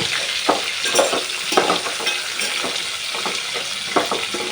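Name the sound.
green chillies and onions frying and stirred in a pan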